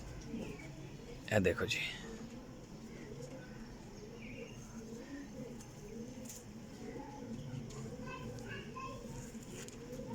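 Pigeons and young squabs in a loft, soft repeated cooing at moderate distance beneath someone talking, with a brief rustle or flutter near the start.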